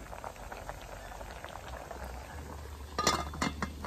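Bananas simmer in a pot over a wood fire, a soft continuous bubbling and crackle that stays faint and close, with a few light clinks near the end.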